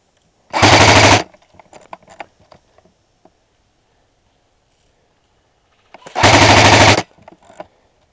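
Airsoft guns firing during an outdoor airsoft game, two loud rapid full-auto bursts about five seconds apart, each under a second long, with faint clicks and rustles between them.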